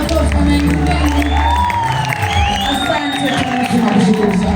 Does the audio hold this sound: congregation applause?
yes